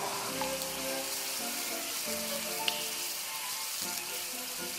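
Pork neck sizzles steadily on a grill at a Korean barbecue lunch, a constant close crackle and hiss with a few small pops and faint background voices murmuring.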